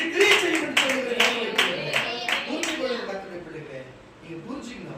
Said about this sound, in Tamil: எல்லாரும் விசுவாச கைத்தட்டு